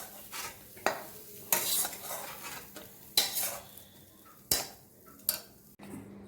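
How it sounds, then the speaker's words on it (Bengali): Fried capsicum, onion and green chilli are mixed into paneer filling for momos: close scraping stirs and sharp clinks of a spoon against a bowl, arriving in spaced bursts with no talking. "এবার এটা পনিরের মধ্যে দিয়ে মিক্স করে নিচ্ছি"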